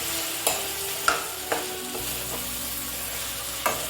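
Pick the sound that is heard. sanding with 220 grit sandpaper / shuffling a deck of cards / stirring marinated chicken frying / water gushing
stirring marinated chicken frying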